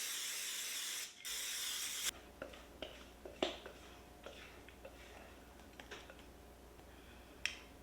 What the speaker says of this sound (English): I'm gonna spray this with some nonstick cooking spray.